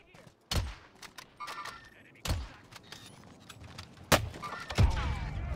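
Kar98k sniper rifle shots in the Warzone shooter game: four sharp, loud cracks at irregular intervals, each with a short booming tail, over faint background game noise.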